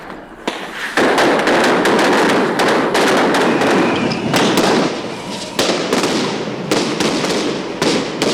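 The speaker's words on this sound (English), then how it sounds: "Police responded with stun grenades," Stun grenades go off at the September 2000 IMF protests in Prague, a run of sharp, loud bangs and cracks over a dense, roaring crowd din, with a few quieter gaps between bursts.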